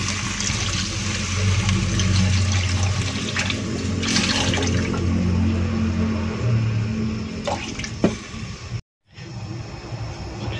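Water pours into a pan of chicken stewing with tomatoes, a steady continuous splashing rush that fills most of the clip, close and fairly loud, stopping abruptly near the end.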